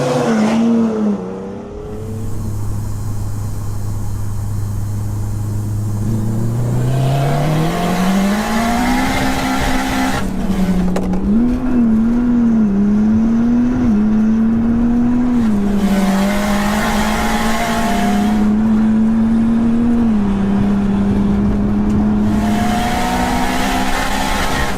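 A BMW 435D and a Honda drag race, the BMW launching from standstill while the Honda rolls, with loud close engine roar rising through the gears, tyre squeal at the launch and a sustained revving drone throughout.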